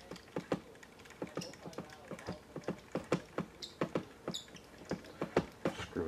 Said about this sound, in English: Screw it in just till it touches.